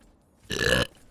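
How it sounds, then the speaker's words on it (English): A single loud, drawn-out human burp, about half a second long, rises sharply and cuts off, standing alone against near silence. "Am I gonna burp? Am I gonna burp?"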